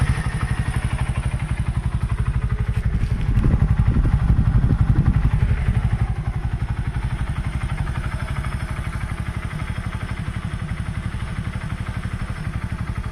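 A Mustang 125 motorcycle engine idles with an even, rapid thumping pulse, swells briefly as it is revved, then settles back to a steady idle, close and alone.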